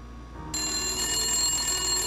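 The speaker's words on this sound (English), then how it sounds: "The phone's ringing." A telephone starts ringing in the Nancy Drew: Message in a Haunted Mansion game, a bright, steady electronic ring that cuts in suddenly over a low ambient hum and holds for the rest.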